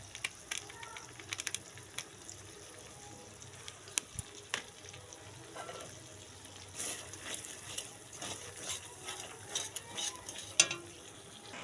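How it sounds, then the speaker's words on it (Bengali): Spice masala for a kabuli chickpea curry fries in oil in a pan, with a soft continuous sizzle under intermittent scraping and clinking of a spoon stirring, close and fairly quiet. "এটাকে আমি এখন 10-15 মিনিট একটু কষে নেব।"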